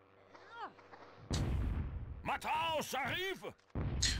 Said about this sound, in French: La petite grenade pour le finir, je pense que c'est bon.